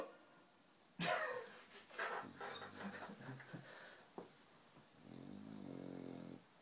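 A dog sleeping in its little bed snores in slow, rasping, wheezy breaths. It is close and fairly quiet, with a sudden louder snort near the start and a long drawn-out rumble toward the end.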